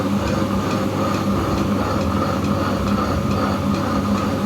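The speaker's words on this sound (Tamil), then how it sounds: "சவுண்டு மோட்ரு வந்து ரொம்பவே சவுண்டு அதிகமாக இருக்குது" A Butterfly Magnum Plus wet grinder's motor runs loudly and steadily, a continuous droning rumble with a faint rhythmic ticking clatter throughout, close and unbroken.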